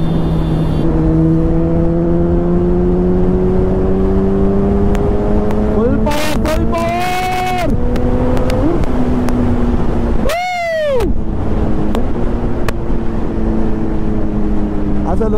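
A Kawasaki Z900 superbike engine drones steadily while riding on the road, its pitch rising and falling with the throttle under constant wind rush, with brief swelling rev changes partway through.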